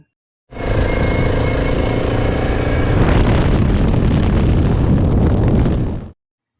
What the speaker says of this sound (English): With a rattle of the engine and the howl of the wind, I was back on the road again